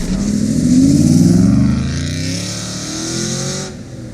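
A stock 2006 Aston Martin V8 Vantage with the 4.3-litre V8 and manual gearbox pulls hard from inside the cabin, engine note rising loudly through the gears, easing off, then climbing again.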